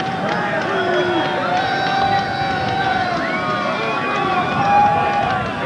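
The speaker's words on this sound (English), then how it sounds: "you could probably hear the chant from the crowd, "We're number one."" A football crowd at a Western Bowl game in Calgary, November 1985, raises a rhythmic chant that rolls along steadily over broad stadium babble, with an announcer talking over it.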